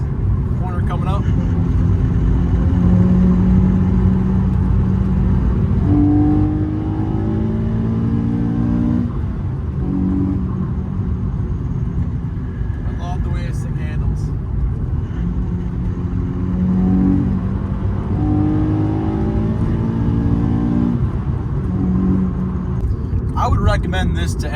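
A Nissan 370Z sports car's engine hums and drones while it is driven, running close and fairly loud beneath continuous talking, with pitch shifting as it speeds up and eases off.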